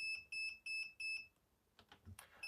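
A Perun Hybrid V2 airsoft processor gives four evenly spaced high-pitched electronic beeps, each lasting about a quarter second. Fainter clicks and rustles follow.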